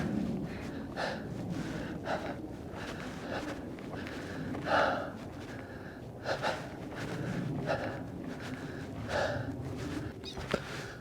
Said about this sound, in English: I apologize for the breathing. It was just really hard to get up here.